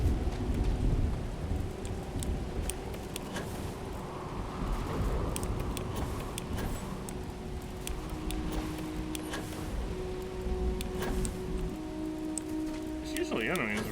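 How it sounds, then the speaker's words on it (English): Rolling thunder and steady rain in the sci-fi video game Starfield, a continuous low rumble with rain hiss throughout, under faint tones and occasional clicks. "I guess it was thunder I was hearing."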